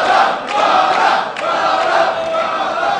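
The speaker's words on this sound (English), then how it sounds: "The crowd chanting Bala." Arena crowd at the EVO 2012 King of Fighters XIII tournament chants a player's name in a loud, steady roar, with rhythmic surges running through a dense wall of voices.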